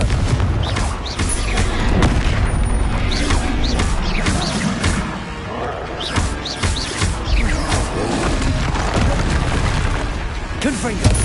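Confringo explosive spells blast repeatedly during combat in the video game Hogwarts Legacy. Several booming impacts follow one another over a dense bed of battle effects and music, and a voice calls out spell names throughout.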